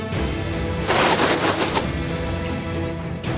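Gunfire in the Grand Kingdom video game, a rapid burst of overlapping shots crackling like a volley. It starts loud, then trails into scattered lighter pops over a steady background hum.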